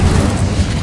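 A fire spell, Incendio, cast in Hogwarts Legacy bursts as a dense, loud whoosh of flame that roars steadily for under a second, with a heavy low rumble.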